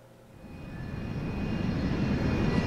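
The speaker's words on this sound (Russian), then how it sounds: "Гигантский самолет без текстур" A giant untextured airplane's engine roars in the Resident Evil 6 video game, a broad steady rumble that swells louder over a few seconds, with thin whining tones on top and no talk.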